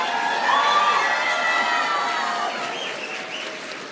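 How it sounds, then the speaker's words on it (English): Applause for faculty and staff of a college of health professions at a fall nursing pinning ceremony, a steady crowd ovation that stays full for a few seconds before easing slightly, with faint cheers mixed in. "give them a round of applause"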